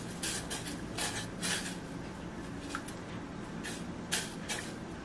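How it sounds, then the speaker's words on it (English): Spoon stirring vanilla extract and sugar in a pot, soft repeated scraping and clinking at close range with no talk, a few brighter knocks standing out over steady low kitchen noise. "Now I'm just gonna stir everything together."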